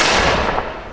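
A volley of muskets from Jacobite and Redcoat reenactors at the Black Watch Museum bursts out as one loud, close blast that decays quickly within a second.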